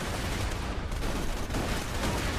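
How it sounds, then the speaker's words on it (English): Dense, continuous gunfire and explosions from a Borderlands 2 firefight, a steady loud barrage of overlapping shots with no pauses. "what the hell keeps shooting us?"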